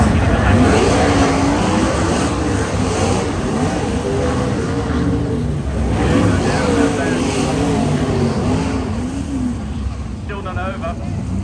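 410 sprint cars race around Premier Speedway in Victoria during a title event, a continuous engine roar whose pitch rises and falls as cars power through the turns, with race commentary running over it.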